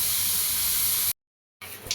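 Toor dal cooked with turmeric and salt boiling in a pot, a close steady steamy hiss that cuts off abruptly into silence, then returns more faintly.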